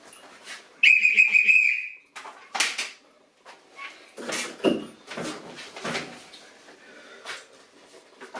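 A single sharp, shrill train departure whistle blast sounds briefly, followed by scattered clunks, rustles and mechanical knocks.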